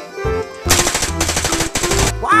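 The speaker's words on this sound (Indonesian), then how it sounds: "Dan lihat teman-teman, ternyata ini senjata SMG." A toy SMG machine gun plays its firing sound effect: three loud, buzzy bursts of rapid electronic shots close up, separated by brief gaps, ending on a short rising tone.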